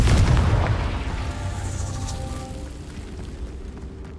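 A Confringo fire spell blast from the Hogwarts Legacy video game on PlayStation 5 lands as a loud, deep boom at the start, then rolls off into a long rumbling decay with crackling debris, no voices present.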